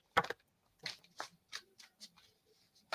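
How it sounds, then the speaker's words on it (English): A new tarot deck being shuffled by hand gives quiet, soft papery slides and flicks in short irregular bursts, with a sharper riffle at the start and end. "I hate it when cards clump when you're overhand shuffling, but this just slides."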